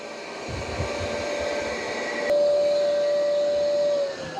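An Ecovacs T80 robot vacuum's auto-empty station runs with a steady, loud motor whine and rushing airflow, stepping up in intensity partway through, then cutting back near the end.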